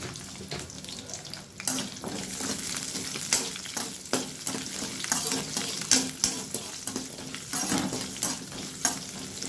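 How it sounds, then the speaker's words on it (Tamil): Small shallots and garlic frying in a pan, with a continuous close sizzle broken by repeated scraping stirs and clatter, and running water audible alongside. "சின்ன வெங்காயத்தில் கொஞ்சம் பூண்டு கொஞ்சம் சேர்த்து இதை நல்லா வறுத்துட்டு"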